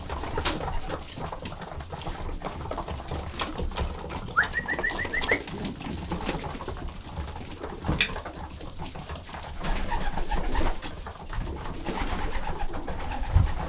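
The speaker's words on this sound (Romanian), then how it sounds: "După cum vedeți, porumbeii sunt destul de blânzi." Domestic pigeons coo in a loft, soft repeated low calls layered over a busy background with occasional knocks and a brief higher chirp, no talking.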